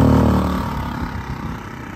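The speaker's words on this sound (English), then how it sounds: "Super quiet little genset." A Predator 1400 portable generator running with its eco throttle on: a steady, close engine drone whose level eases slightly from start to end, with no talk.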